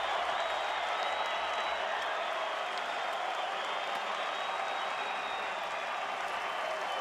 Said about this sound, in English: a very partisan Venezuelan crowd